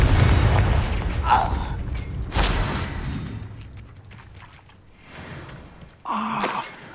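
The Confringo fire spell explodes in the video game Hogwarts Legacy, with two sharp booming bursts, one early and one near the end, over a rumbling low game soundscape that gradually fades between them.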